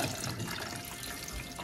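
Hot water drains off cabbage into a kitchen sink, a continuous splashing hiss at moderate volume with a brief low gurgle near the end; no speech.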